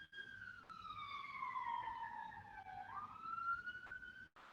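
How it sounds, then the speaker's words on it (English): An ambulance siren passes nearby, its loud wailing tone gliding steadily downward, dipping, then rising again as it goes by over faint street rumble. "there's an ambulance going past."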